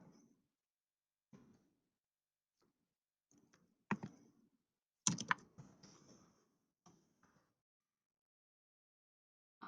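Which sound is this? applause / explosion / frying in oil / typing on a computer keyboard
typing on a computer keyboard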